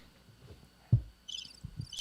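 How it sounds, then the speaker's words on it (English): Cricket chirping played as a sound effect: short, high, pulsing chirp bursts come in after a single low thump, fairly faint over a quiet background. "Crickets."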